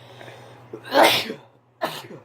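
A single loud, close sneeze with a sharp burst, a brief quiet gap, then a second smaller sneeze or sniff, over a low steady hum.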